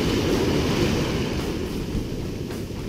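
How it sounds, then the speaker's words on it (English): Choppy ocean surf washes onto a beach at night during surf fishing in Destin, a steady, loud rumbling roar with wind buffeting the microphone and no voices. "You just gotta get past those waves, you know? Yeah. It's really choppy out here."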